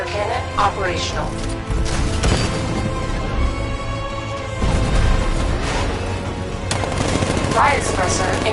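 The Batmobile's 60mm cannon firing in the video game Batman Arkham Knight, heavy repeated gunfire blasts and mechanical clanks in a busy battle mix, with voices talking throughout.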